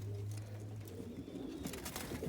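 Young pigeons coo softly and low from a nest, a brief murmuring call up close.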